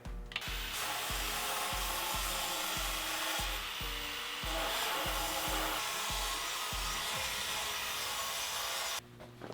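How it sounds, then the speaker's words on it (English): Harbor Freight portable belt sander grinding edges in a workshop, a loud continuous whirring rasp broken by regular rhythmic thumps and pulses as it is pushed against the workpiece, with no talk, stopping abruptly near the end. "My Harbor Freight portable belt sander should do the trick."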